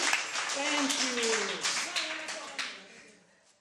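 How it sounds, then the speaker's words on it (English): Audience clapping hands for Lebanon, a loose patter of claps that starts strong and slowly fades, mixed with a speaking voice throughout. "Can you clap hands for Lebanon?"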